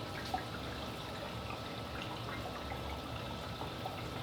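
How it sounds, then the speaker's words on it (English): Water pours steadily into a filter sock in an aquarium sump under an Ice Cap 48XL setup, a continuous soft splashing rush with occasional faint drips. "definitely water going into it, that's for sure"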